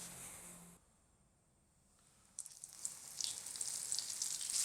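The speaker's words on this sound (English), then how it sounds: "I'm going to lower the squid into the hot oil in batches" Squid pieces lowered in batches into hot oil for Cantonese salt and pepper squid: after a quiet pause, a bright, loud sizzle bursts in and keeps building, crackling steadily up close.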